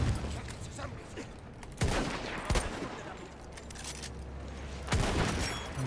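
M95 carbine sniper rifle shots in the Battlefield 1 video game crack out loud and close, about four sharp reports spaced over several seconds, amid a busy battle din of distant gunfire.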